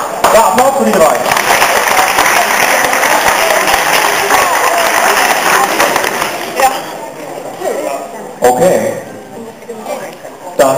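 Convention audience applauding cosplay contest winners at an anime convention in Hannover, a dense sustained wash of clapping and crowd noise that thins toward the end with a few fresh bursts.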